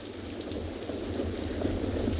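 Steady rainfall at an outdoor penguin beach, a continuous even hiss of drops on surfaces with no voices.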